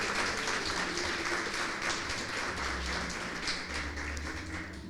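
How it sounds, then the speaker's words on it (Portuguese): A church congregation applauding during a celebration service, a soft, distant wash of steady clapping with low background rumble throughout. "dá uma salva de palmas para Jesus"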